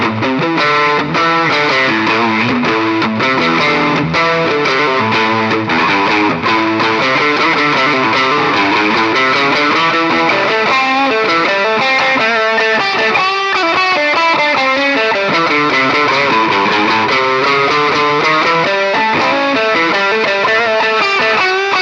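A distorted electric guitar, a Passion BPS-RG270 on its bridge single-coil pickup, plays a continuous riff with a bright, twangy, crunchy tone, loud and close throughout with no pauses.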